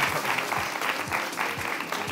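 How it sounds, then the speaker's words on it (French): Applause from a studio audience on a Togolese TV show, a lively sustained burst of clapping with rhythmic thumps underneath and no talking. "Ça s'applaudit."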